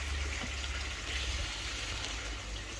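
Liquid pours steadily into a bucket of koi pond water, a continuous close gushing splash that holds at one level with no talk over it.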